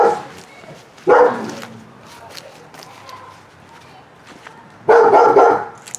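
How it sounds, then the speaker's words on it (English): A neighbor's dog barks from nearby outdoors in a garden, two loud bursts of barking separated by quieter stretches with faint rustling. "And that's my neighbor's dog."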